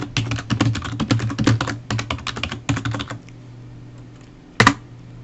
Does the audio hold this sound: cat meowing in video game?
no